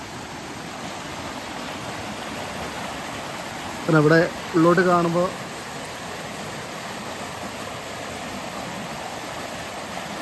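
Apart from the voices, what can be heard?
small forest stream flowing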